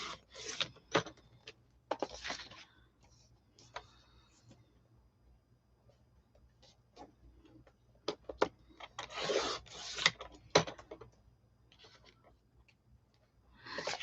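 A paper trimmer cutting white pieces of paper for a journal cover, heard as scattered soft rubbing and rasping strokes with small clicks, close and fairly quiet, in irregular bursts over a low steady hum.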